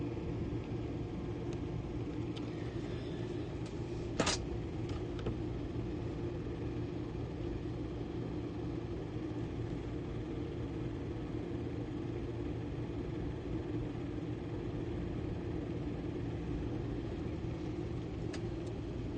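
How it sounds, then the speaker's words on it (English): Low rumble of thunder during a storm, blending with the steady drone of several cars passing nearby, a continuous muffled roar with one brief sharp crackle partway through. "this thunder right now seems synced with the cars again"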